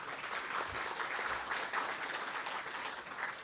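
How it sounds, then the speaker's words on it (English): Audience applause at a housing development conference, a continuous wash of many hands clapping, fairly distant and quiet, sustained evenly without voices over it. "Let's give another round of applause to Encik Noor Amzari."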